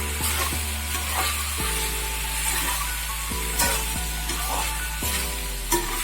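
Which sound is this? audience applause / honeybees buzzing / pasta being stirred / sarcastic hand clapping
pasta being stirred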